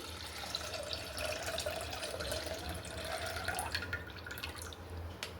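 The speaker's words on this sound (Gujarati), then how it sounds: "માખણ ધોઈને પાણી આપણે આ નિતારી લીધું છે" Wash water draining off homemade butter, a continuous close trickle and dribble of water pouring out, with scattered drips toward the end and no talk.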